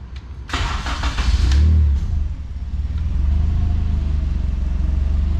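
A turbocharged, K-swapped Mazda Miata engine cranks, fires and settles into a loud, slightly rough idle while running rich. The start is close and forceful, then a steady rumble continues alone with no talking.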